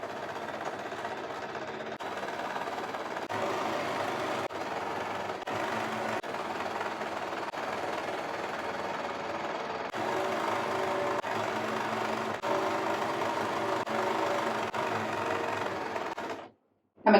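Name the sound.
sewing machine stitching churidar lining down to hem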